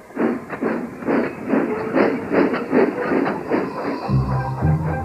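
A cartoon steam engine puffs along its track in a steady rhythm of chuffs with a soft hiss, loud and close, then a low deep whistle-like tone near the end.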